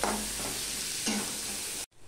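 Onions frying in a pan for a Bengali potol and prawn curry, a bright continuous sizzle with a couple of stirring scrapes, close and alone, ending abruptly.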